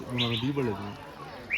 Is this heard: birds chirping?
yes